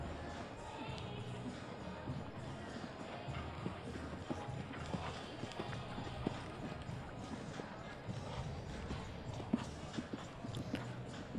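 Dressage horse in an arena at a CDI 5* Grand Prix, cantering with steady, rhythmic hoofbeats on soft footing, fairly close, under a murmur of background voices and arena ambience.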